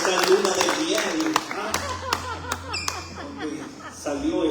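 Church congregation clapping for a newlywed couple, with sharp separate claps spreading into a brief round of applause under a speaking voice and some light laughter.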